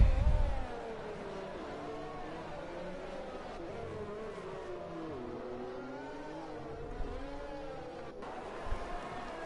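A McLaren race car in a racing game qualifying session whines through the gears, its engine pitch rising and falling steadily through a sweeping sector, heard moderately loud and continuous.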